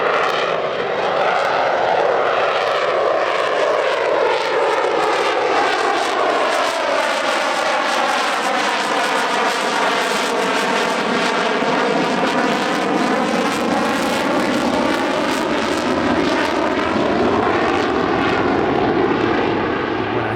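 Military jet flying at an airshow, a loud continuous roar with a sweeping pitch change as it passes close overhead, sustained for about twenty seconds with no talk.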